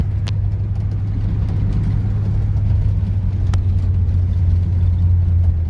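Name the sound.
1956 Chevrolet Bel Air V8 engine while driving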